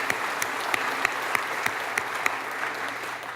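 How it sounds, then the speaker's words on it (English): A banquet audience at a teacher of the year awards dinner claps for the city school board, with a steady patter of many hands and a few sharper nearby claps standing out from the crowd. "give the Clinton City School Boards a round of applause"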